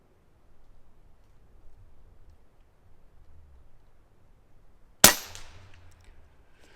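A single sharp crack from an Umarex Gauntlet PCP .25 caliber air rifle firing outdoors, sudden and loud against quiet background, with a short ringing decay.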